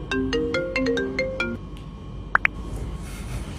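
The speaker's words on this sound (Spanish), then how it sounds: "Rubén, contestame ese teléfono y ponle un altavoz." A mobile phone rings with a bright melodic ringtone of quick repeated notes that stop after about a second and a half, followed by two short sharp clicks, loud and close with no talking.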